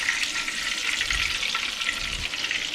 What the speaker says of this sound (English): Mainly we're just browning it up.